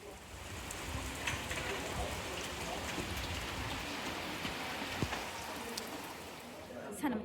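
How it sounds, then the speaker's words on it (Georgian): Heavy rain on the Danish island of Bornholm, a dense, steady downpour hissing and pattering close by, with no voices. "ძალიან მომენატრა ესეთი წვიმა და ჭექაქუხილი"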